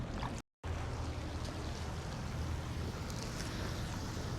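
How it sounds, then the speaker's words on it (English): Hot spring water bubbles up from under a restaurant deck on a snowy Pagosa hot springs tour, making a steady, close, loud rush of churning water with no talking. "Bubbling right up out of here."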